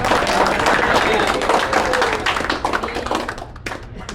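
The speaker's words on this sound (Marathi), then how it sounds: "टाळ्या टाळ्या" Guests at a birthday celebration clapping together, a dense burst of applause that thins out toward the end, with voices talking over it.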